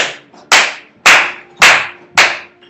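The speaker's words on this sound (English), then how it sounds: "This tempo, and I'll clap." Sharp single hand claps mark the tempo for a band rehearsal, five loud, evenly spaced strikes roughly half a second apart, each ringing briefly before the next, with no talk over them.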